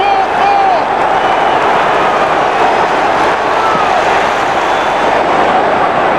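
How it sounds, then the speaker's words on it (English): A West Ham football crowd at Upton Park roars after Joe Cole's goal, a loud continuous wall of cheering and shouting that stays intense throughout, with a commentator's voice likely under the noise. "Joe Cole's first goal at Upton Park. And the crowd have gone mad."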